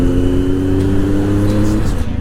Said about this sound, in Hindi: हरियाणा से ये गाड़ी आ रही है.